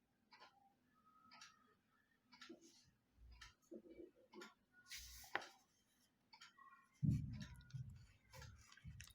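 A pen scratches out lines and tick marks while a signal plot's axes are sketched, quiet irregular strokes with short pauses and one louder tap or thump near the end, no talking.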